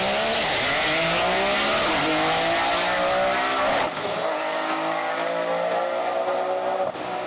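Chris Forsberg's Nissan 370Z with a GTR engine screams loudly as it revs up and holds high, tires squealing, then drops in pitch and carries on revving close by.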